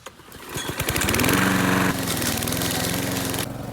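A tiny car fitted with a Briggs engine mows down grass and small trees, its small engine revving up into a loud, close buzzing drone that runs on steadily, with no talk.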